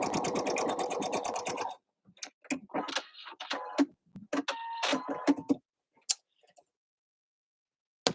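A home sewing machine stitching a skirt seam runs in one steady whirring burst at first, then gives way to short stop-start clicks and brief runs of stitching, fairly close and moderately quiet.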